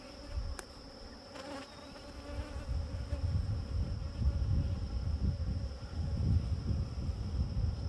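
Honeybees buzz during a hive inspection while frames are shifted, a dense low drone that swells and stays loud and close throughout.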